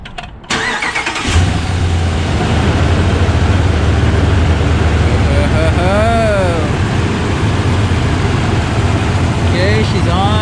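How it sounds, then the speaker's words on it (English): A Ram 1500 with a 5.7L Hemi V8 and a K&N air intake cranks briefly, then fires and settles into a loud, steady idle close by, with a voice speaking faintly over the engine. "Alright, the battery's tightened back on, and Kara is gonna start it up for us."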